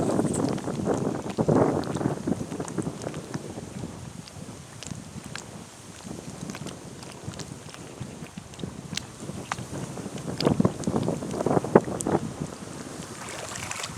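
Wind gusts and buffets the microphone in uneven surges, with water lapping around a boat underneath at Valleroy-aux-Saules and no voices.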